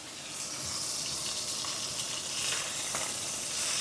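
Steaks sear in a hot pan with a steady, loud, hissing sizzle that holds evenly throughout, with faint crackles and no talking.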